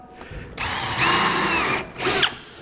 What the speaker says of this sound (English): just put a few screws in there